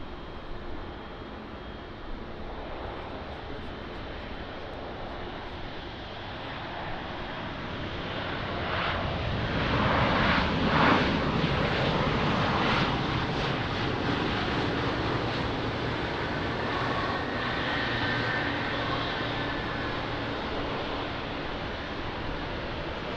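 A United heavy airliner sits lined up on runway 20 at Lisbon Airport, its jet engines giving a steady broadband roar that swells after about ten seconds and then holds at a loud, even level.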